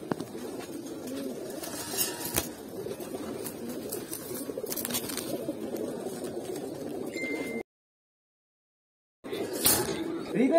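Pigeons cooing inside a Munshiganj loft holding hundreds of birds, a steady murmur of low calls with scattered flutters and clatter, a brief dropout near the end before the cooing resumes.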